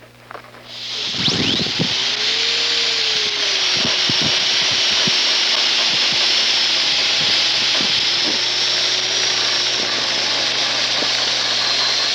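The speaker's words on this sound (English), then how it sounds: "you can use a very fine sandpaper disc to get into the interproximal areas" A rotary dental handpiece spins a fine sandpaper disc against a gold dental restoration, giving a loud, steady high whine that starts abruptly and holds unbroken, with faint scratchy contact noise underneath.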